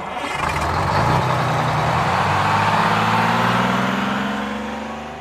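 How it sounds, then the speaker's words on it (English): A large bus engine idles and rumbles nearby, loud and steady, with a low drone that swells slightly before fading. "I can hear a bus."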